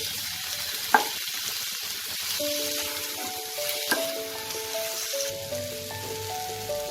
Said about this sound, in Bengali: আমি এটাকে স্লো ফ্লেমে একটু নাড়াচাড়া করে নেব।